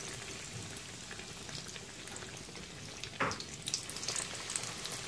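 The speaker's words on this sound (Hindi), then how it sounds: "अब इसमें एक एक करके कबाब डाल लेते हैं।" Egg kebabs frying in moderately hot oil give a soft, continuous sizzle with scattered crackles and spits that grow busier toward the end, heard alone and fairly quiet.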